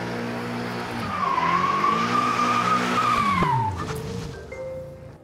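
A BMW drifts at a driving challenge, its rear tires screeching in a loud, sustained, wavering squeal over a revving engine for about three seconds before fading into lower engine noise.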